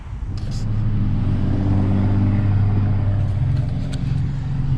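An N14 Mini Cooper with a newly fitted throttle body drives along on a test run, its steady mid-pitched engine drone and road rumble heard from inside the cabin, loud and continuous with slight throttle swells.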